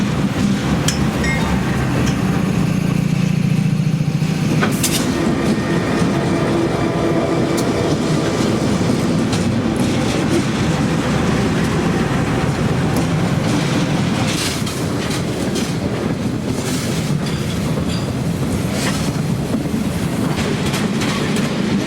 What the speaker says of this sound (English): A General Electric Dash 8 heads up southbound train R573, a daily manifest, as it cautiously slows down for the street running in LaGrange